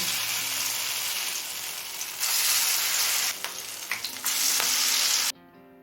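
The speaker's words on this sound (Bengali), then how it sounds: "সব বড়াগুলোকে তুলে নেওয়ার পর একই রকমভাবে বাকি বড়াগুলোও ভেজে নেব" Capsicum pakoras sizzle loudly in hot oil, a dense continuous crackle with a few bursts and stirring scrapes, cutting off abruptly near the end.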